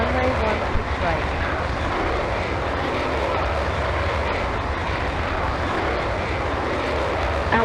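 In the Falcon 4 Allied Force combat flight simulator, a Eurofighter Typhoon jet's engine roars steadily and loudly on the runway during takeoff, a dense continuous rumble with no pauses throughout.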